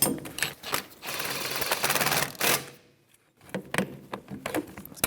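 A ratchet with a 17mm socket tightens a rear CV axle bolt on a 2013-2018 Toyota RAV4 2.5L, giving rapid clicking bursts with a short pause before more clicks resume.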